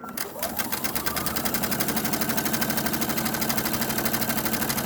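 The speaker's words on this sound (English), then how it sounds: "I'm just keeping the edge of the fabric lined up with the inside edge of the presser foot" Sewing machine running steadily as it stitches fabric for a pleated face mask, a fast even mechanical whir with rapid needle clatter that starts up and holds constant throughout, close and fairly loud.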